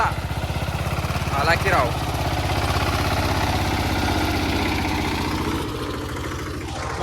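A tractor engine chugs close by with a steady low throbbing rumble as it drives past on a village road, easing off toward the end while people talk over it.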